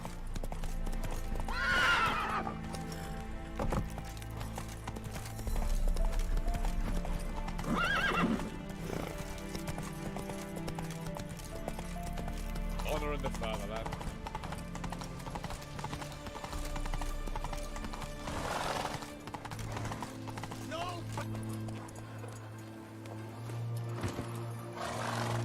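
Geralt's horse Roach gallops in The Witcher 3, hooves pounding in a continuous rhythm over a low droning backdrop, with occasional whinnies and snorts rising above it, close and sustained.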